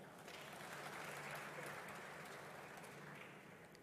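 Steady applause from an audience greeting President Samia Suluhu Hassan at State House, Dar es Salaam, during a state welcome for Singapore's President, a dense wash of clapping that holds evenly throughout and tapers slightly at the end.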